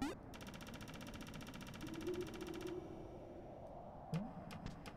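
A crank mechanism in the video game Animal Well gives a quiet, rapid and evenly spaced clicking for about two seconds, followed by a few soft, separate taps.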